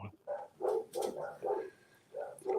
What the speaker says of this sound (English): You probably hear my dogs upstairs bark